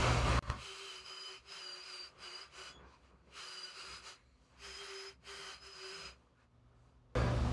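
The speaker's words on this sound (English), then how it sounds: "Helps if you're spinning your drill the right way." Power drill with a Forstner bit boring into a block of wood for a frog rasp instrument, a steady whirring grind that runs in several bursts separated by short pauses, close to the microphone.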